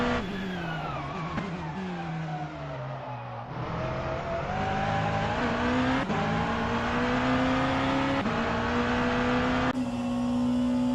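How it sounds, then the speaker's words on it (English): Hypercar engines roar in an endurance racing video game, loud sustained whines rising and falling through gear changes, several cars overlapping with occasional tire squeal. "I think the hypercars are really, really loud."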